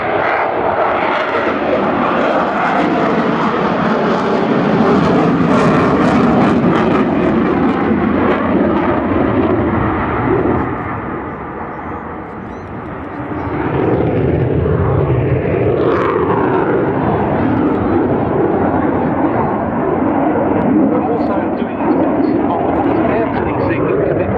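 A Eurofighter Typhoon jet aircraft roars loudly and continuously, the noise dipping briefly midway before swelling again, with someone talking over it throughout.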